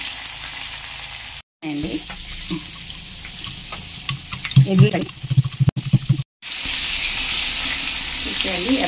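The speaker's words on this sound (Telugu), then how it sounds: "ఇప్పుడు ఎండు చేపలు వేసుకుందాం. ఫ్రై చేసుకోవాలి, వేగాలి" Dried fish hit hot oil in a pan, sizzling loudly and steadily with brief pauses, while a voice speaks briefly over the crackling frying.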